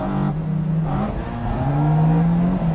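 A drift car's engine held at full throttle on a Japanese mountain touge road, the revs rising and falling in long whining sweeps as the car slides through corners, heard loud from onboard.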